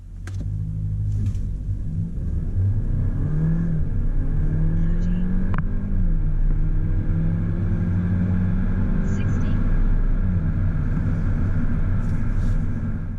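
A 2021 Audi A5 40 with 201 horsepower and 236 pound-feet of torque accelerating hard in a 0-60 run: a loud, steady engine drone whose pitch climbs, eases at the gear changes and climbs again, heard from inside the car.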